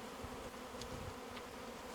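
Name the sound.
honeybees buzzing at beehive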